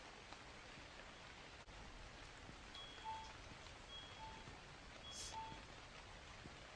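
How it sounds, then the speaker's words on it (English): Rain falls in a convenience store video game, a faint, steady patter lasting several seconds with a few soft beeps and no talk. "Oh, I see why we need an umbrella. It's raining."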